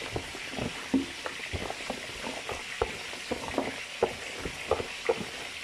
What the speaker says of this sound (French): Je mélange comme ça.